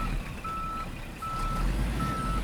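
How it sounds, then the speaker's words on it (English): A truck backing up sounds its reversing alarm, steady evenly spaced electronic beeps over a low engine rumble from a short distance away. "there's a truck backing up"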